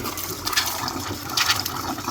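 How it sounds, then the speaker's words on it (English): Cold water runs from an RV sink faucet on newly replaced plumbing lines, with air still in the line. The hiss and splash are steady and close, with no talk. "We'll turn the cold water on."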